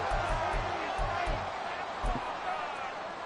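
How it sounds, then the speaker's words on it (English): Stadium crowd noise in an American football video game during a two-point conversion, a dense roar carried under rhythmic thumping beats. "Listen to this crowd now."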